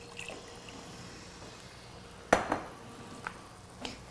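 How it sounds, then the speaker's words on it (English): Borscht is stirred in a cooking pot with a quiet simmering background and a sharp clank of utensil against metal, followed by a few softer scrapes and taps. "Give it a good stir"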